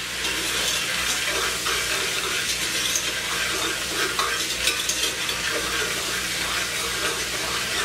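A spoon stirring melted butter with salt, pepper and thyme in a pan, a continuous soft sizzle with gentle scraping and swishing throughout, heard close up.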